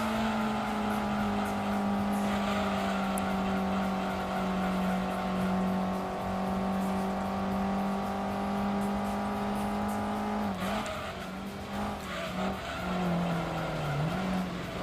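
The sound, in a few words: car engine racing in video game Gran Turismo 2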